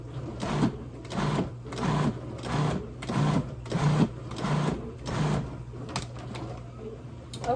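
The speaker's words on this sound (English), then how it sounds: "I'm going to scrape down the sides and pulse it a couple more times and then puck it up." A food processor pulses garlic in about eight short, even whirring bursts roughly once a second, loud and close, with a steady low hum underneath and no one talking.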